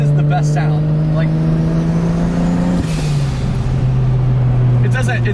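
A 1JZ-swapped Datsun 280Z engine pulls hard through a gear, a loud steady engine tone climbing in pitch, with a brief shift-like dip midway before rising again; close and dominant.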